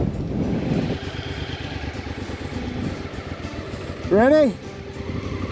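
Motorcycle engine rumbling in a steady low drone with its front tire buried deep, crossed by talk and a brief loud shout or whoop near the end.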